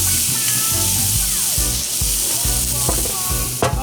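Flank steak sizzling on a charcoal grill, a loud, close, continuous hiss and crackle with brief sharper pops, a few low tonal sounds mixed in underneath.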